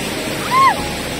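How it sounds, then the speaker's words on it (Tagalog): Strong river current at a crossing rushes in a steady, loud broadband roar of moving water, with a brief tonal chirp on top midway. "bumulaga sa amin ang malakas na agos ng tubig"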